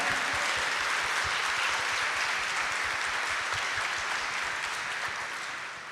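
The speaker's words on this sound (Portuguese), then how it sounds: "uma salva de palmas para ele que te fala." A church congregation applauds during a Sunday homily, a sustained, even wash of many hands clapping that holds steady and tapers slightly at the end.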